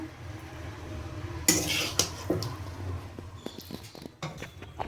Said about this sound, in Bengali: এবার আমি একটু এটাকে নাড়িয়ে নেব